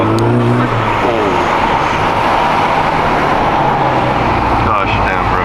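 A loud turbocharged full-bolt-on GTI engine rumbles and revs nearby, a continuous throaty roar with shifting pitch.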